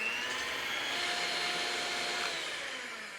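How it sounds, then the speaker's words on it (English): An electric mixer whisks egg whites toward stiff peaks for tiramisu, giving a continuous loud whirring motor drone with a slight change in pitch. It plays alone and steadily throughout, with no talking. "And now we want to whisk these until stiff peaks form."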